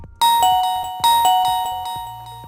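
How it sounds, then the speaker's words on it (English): A Reolink doorbell chime rings twice in succession, each ring a bright two-tone ding-dong that decays slowly, loud and close with no talk. "you will hear a ring if you press the doorbell button."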